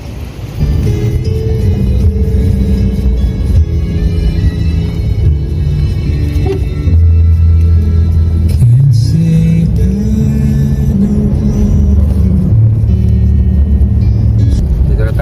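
A car drives on the road during a roughly hour-long trip home near Glan under cloudy, stormy-looking skies. Its engine gives a loud, steady low rumble with slight shifts in pitch and no voices.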